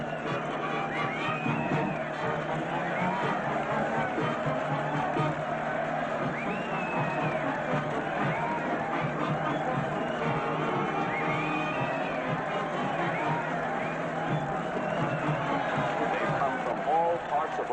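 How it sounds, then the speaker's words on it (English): A large outdoor crowd cheers and waves to welcome back a group of long-missing castaways in Hawaii, a dense, steady roar of voices and whoops that fills the whole stretch with no break. "And look at that mob waving and cheering."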